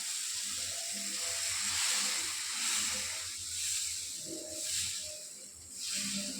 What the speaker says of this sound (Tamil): இப்போ தோசை எடுத்து ஊற்றிக்கலாம்